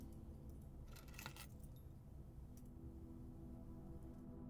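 Car keys are picked up in the puzzle game Blue Prince, giving a short, bright metallic jingle over a low, steady background hum.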